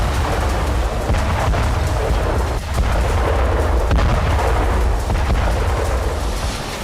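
Heavy, continuous rumbling blasts of American ATACMS missile strikes, a dense roar of explosions filling the whole stretch without pause.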